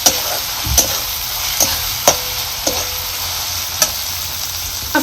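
Chopped onion and tomato sizzle in a pan over a low flame, a steady close frying hiss broken by several sharp spoon knocks against the pan at uneven intervals.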